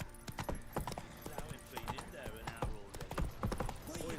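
Hooves of the horse Roach clip-clopping at a steady gallop in Witcher 3, a quick rhythmic drumming of beats close up, with someone talking over it.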